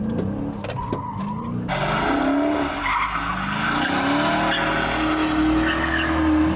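Dodge Challenger 392 Widebody doing a burnout turn with traction control off, its tires squealing and skidding in long wavering shrieks over a growling V8, loud and close, with a short quieter lead-in before the squeal takes over.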